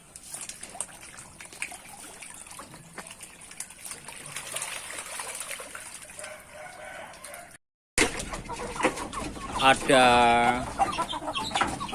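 A hen clucks and a rooster crows loudly near the end, with trickling water and some background noise before it.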